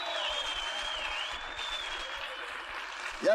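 An audience at a seminar event breaks into sustained, even applause that fills the room at a steady level, with no voices standing out above the clapping.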